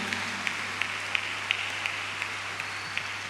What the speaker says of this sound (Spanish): Ese aplauso para Dios en esta noche.